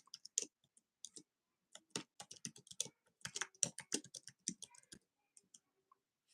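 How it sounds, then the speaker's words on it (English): Someone typing on a computer keyboard, a close, quiet run of irregular key clicks in quick bursts with short pauses, tapering off to a few last taps, with no talking. "Let me see if I can type it into the chat."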